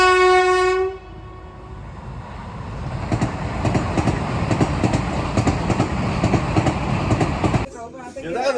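A train rolls past at close range, with a steady rumble and rattle filling most of the clip after a horn-like tonal blast at the start, then cutting off abruptly near the end.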